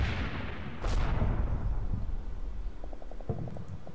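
Artillery fire lands in a Combat Mission: Battle for Normandy game, a heavy, rumbling boom that rolls and slowly fades, followed by a few faint sharp cracks.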